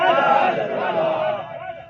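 A large crowd chants a loud, sustained, harmonized response to the Nara-e-Takbir and Nara-e-Risalat slogans at a Jashn-e-Eid Milad-un-Nabi gathering, the massed voices swelling then easing slightly across the phrase.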